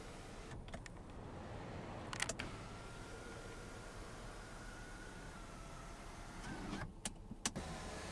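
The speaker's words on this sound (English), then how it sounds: "the power controls for your panoramic dual pane sunroof" A power panoramic dual-pane sunroof motor in a 2018 Ford Explorer Platinum runs as a faint, steady electric whir inside the cabin, with a few soft clicks at the start and end.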